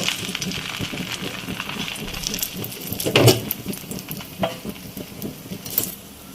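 Slices of bread fry in melted butter in a pan, giving a steady low sizzle, with a few louder clinks and scraping stirs as they are placed and moved.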